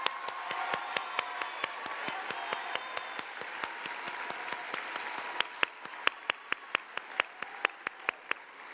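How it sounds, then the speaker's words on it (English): A crowd applauds steadily at a school graduation ceremony, with louder claps landing in an even beat over a continuous wash of clapping. "Let's give them a round of applause."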